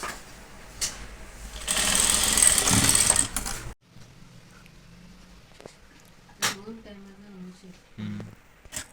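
Sewing machine stitching a water-drop blouse neck design, running in a loud steady burst for about two seconds before stopping, followed by quieter handling sounds and a voice speaking.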